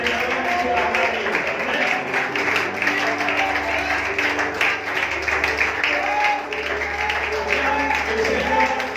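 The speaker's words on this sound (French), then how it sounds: "Acclame le Seigneur pour la famille." A church congregation keeps up loud, sustained applause with a busy patter of claps, mixed with voices and music.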